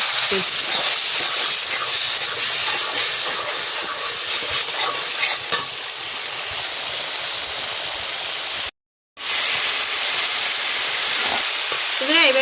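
Onion, garlic and ginger fry in hot oil with whole cumin for a prawn malai curry, a loud close hissing sizzle with stirring clatter, briefly cut to silence near the end before the sizzle returns.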